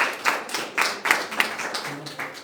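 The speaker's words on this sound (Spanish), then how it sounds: "¿Cuántos le dan un aplauso al Señor?" A church congregation claps at a Thursday service, giving a run of close, fairly sharp hand claps in an uneven rhythm. The clapping fades toward the end.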